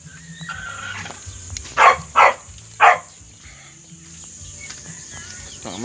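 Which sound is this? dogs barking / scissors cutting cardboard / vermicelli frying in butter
dogs barking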